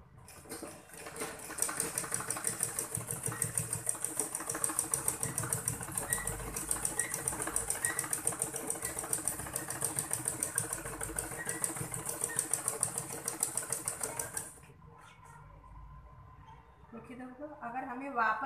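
A sewing machine stitches a school uniform dupatta in a steady, rapid mechanical whir that runs close and loud for about fourteen seconds, then stops, leaving quieter handling noises and a brief voice.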